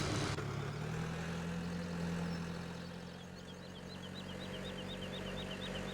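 A tractor engine in Farming Simulator 17, working a field with a baler, idles in a steady low drone that dips slightly midway. Faint high chirps sit above it and no one speaks.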